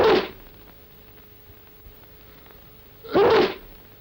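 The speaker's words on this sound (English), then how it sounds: "Sneeze, handkerchief." Two sharp, loud sneezes, one at the start and another about three seconds later, each a brief explosive burst separated by near silence with a faint steady hum.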